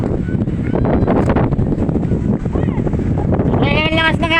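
Strong wind buffets the microphone in a steady, loud roar outdoors while kites are flown, with voices talking over it and a brief whistling tone near the end.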